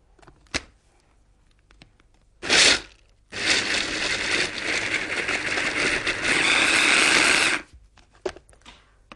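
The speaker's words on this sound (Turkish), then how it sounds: "Evet, tatlımızı güzelce robotta çektik." A food processor blends chestnuts, fruit and banana into a dessert mixture, giving a short burst, then a long steady whirring run of about four seconds that stops abruptly, with small clatters before and after.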